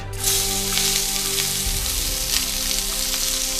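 Roughly chopped onion dropped into hot oil in a pan for a Bengali egg curry, a loud, continuous sizzle holding steady throughout, with a low hum fading out early on.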